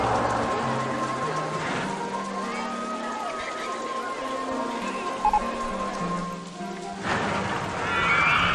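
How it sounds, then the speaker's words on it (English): Steady rain hissing in the OpenRCT2 theme park game, a broad continuous wash of falling drops with faint tonal game sounds and music underneath, swelling briefly near the end. "I need more rain."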